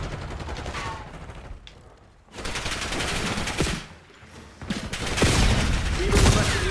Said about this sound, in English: Damn, I shot at my own teammate.